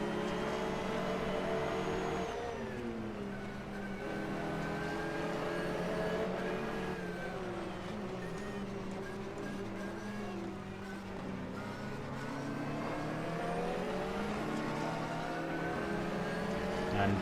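Onboard a Porsche race car, the number 19 Simco entry, in a racing game at Mid-Ohio, the engine drones loud and close, rising and falling in pitch through gear changes and corners over a long continuous stretch.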